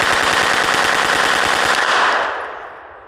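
A Madsen M50 submachine gun fires one long, loud, close burst of rapid automatic shots, then stops as the echo trails off into the surroundings.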